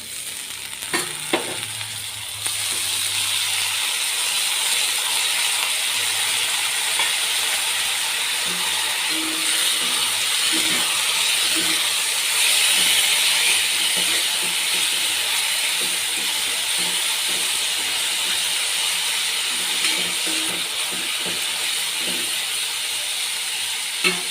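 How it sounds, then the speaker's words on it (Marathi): Washed leafy greens hit a hot pan, breaking into a loud, continuous steaming hiss and sizzle that holds steady, with faint stirring scrapes underneath. "यात धुतलेली भाजी टाकून घेऊया"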